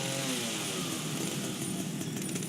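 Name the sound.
chainsaw being used in a video game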